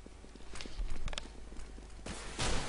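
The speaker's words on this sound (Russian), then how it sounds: "он слышал там первые шаги" Footsteps in Counter-Strike: Global Offensive on the Inferno map during a match, a quick run of soft, regular steps with a few louder bursts of game noise, heard alone without talk.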